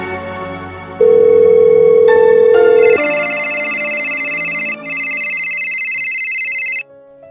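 A telephone gives loud electronic tones: a steady low beep, then a short stepped sequence into a sustained bright ringing tone that pauses briefly once and then cuts off.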